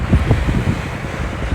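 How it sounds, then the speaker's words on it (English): Loud, blustery wind buffets the microphone on a rooftop in Barbados, producing a continuous low rumble with gusty thumps and no other clear sounds. "A bit windy, so sorry if there is any wind."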